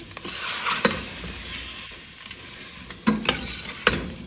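Spiced mixture with salt being stirred and roasted in a pan for a potato and mutton yakhni curry, a steady soft sizzle broken by a few sharp spoon scrapes and clacks against the metal, close up with no talking.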